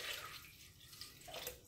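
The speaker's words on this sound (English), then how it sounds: "So let's go ahead and add the broth." Broth poured into a bowl of dog food, a soft, quiet liquid splash and trickle heard close up with no talking.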